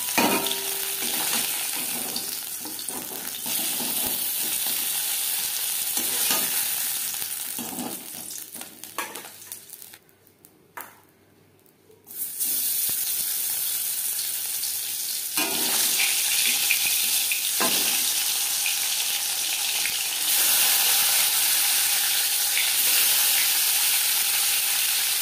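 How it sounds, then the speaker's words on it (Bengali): Lata fish fry in oil in a small pan, producing a loud, continuous, close sizzle that drops to near quiet for a couple of seconds midway, then resumes with stirring and bubbling. "প্রথম ব্যাচে মাছ ভাজা হয়ে গেছে"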